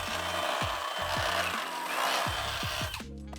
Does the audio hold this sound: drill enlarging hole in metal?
yes